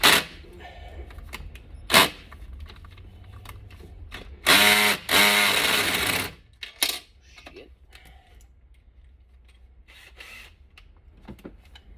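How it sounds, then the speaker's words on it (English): A cheap Ryobi cordless drill with a Torx bit loosens screws on a Mercedes Sprinter van, giving close, loud ratcheting whirs in a few short bursts, with a longer run midway and quiet gaps between. "So I use a drill. I got a cheap Ryobi drill, and I got a Torx on it"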